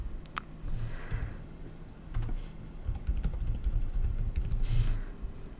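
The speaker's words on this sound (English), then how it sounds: "Keyboard sounds here." Steady keyboard typing with quick, irregular clicks of keys, close and moderately loud, with no voices.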